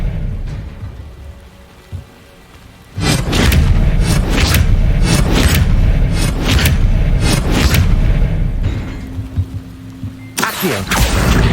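A spell is cast in Hogwarts Legacy: after a quiet low rumble, a sudden loud burst opens into a sustained crackling, rushing roar with repeated sharp flares, easing slightly before another burst near the end.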